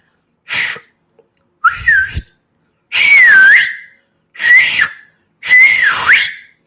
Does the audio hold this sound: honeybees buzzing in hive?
no